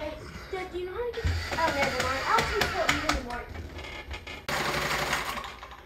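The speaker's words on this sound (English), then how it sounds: "A brand new servo motor on an old Faf sewing machine." An old Pfaff sewing machine runs on a new servo motor, giving short bursts of rapid mechanical stitching and whirring, close and fairly loud, with people talking around it.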